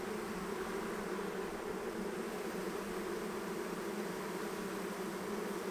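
Honeybees at an opened hive during a swarm-season inspection, a dense, steady buzz of many bees filling the air without pause, with no talk.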